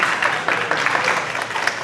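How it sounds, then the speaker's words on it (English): Brief burst of audience applause in a small gathering, steady dense clapping of moderate loudness with a faint voice briefly underneath. "Give a round of applause for him."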